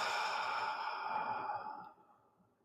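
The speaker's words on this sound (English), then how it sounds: "I invite you to let out all your breath and inhale deeply. And exhale slowly." A single slow, deep exhale during a guided meditation, a soft breathy rush that trails off gradually into near silence, heard alone and close up.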